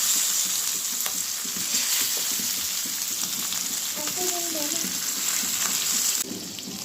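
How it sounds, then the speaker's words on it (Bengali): Constant strong sizzle of fish frying in oil, with faint scraping and a short murmur of voice midway before the sound eases slightly. "মাছগুলো আমি হালকা ভেজে নিলাম"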